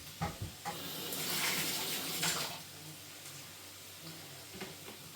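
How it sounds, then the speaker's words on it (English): Spring onions rinsed under a running kitchen tap, water splashing and hissing close by, loudest early on and then settling into a softer, steady flow with a few light knocks. "Just give them a quick rinse."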